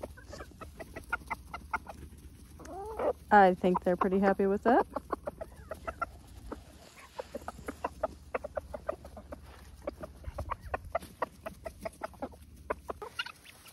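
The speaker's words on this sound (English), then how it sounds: "split it up between our 2 flocks of chickens" A backyard flock of chickens clucking and squawking while eating scraps of deer meat and vegetables, a busy burst of close clucks early on, with a person talking briefly over them.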